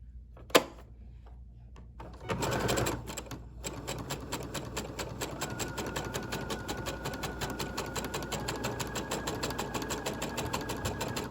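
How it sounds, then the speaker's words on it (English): A sewing machine stitches a zigzag seam on fabric for a child's apron. A single click comes first, then a short pause, then a steady rapid needle rattle that runs close and even to the end. "Then I'm going to start sewing with the zigzag."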